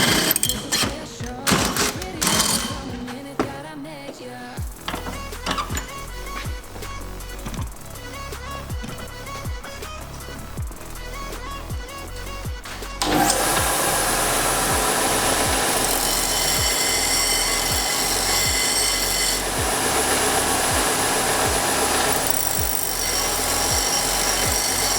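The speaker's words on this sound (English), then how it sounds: "Let's drill them out." Power drill boring out holes for 4x4 suspension mounts, starting with intermittent short bursts and clunks, then settling into a steady, loud continuous drilling whine that runs alone for about twelve seconds.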